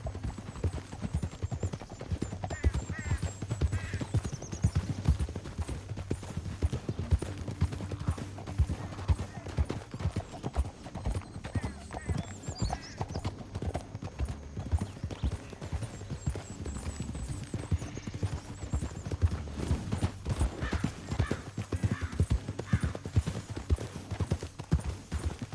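Horse hooves clip-clop steadily in the video game Red Dead Redemption 2, a continuous rhythmic trotting over a low rumble of ambient game sound and music for the whole stretch.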